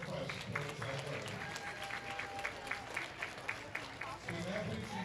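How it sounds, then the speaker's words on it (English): A crowd at the 2019 Southland Bowling League Championship gives a round of applause for the athletes, fairly quiet and distant, a steady patter of clapping mixed with voices in the hall. "athletes out with a great round of applause as they start their quest towards that goal"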